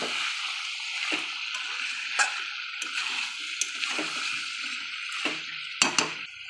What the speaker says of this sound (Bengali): মাংসটা কষে এসছে, এবার আমি জল দিয়ে দেবো।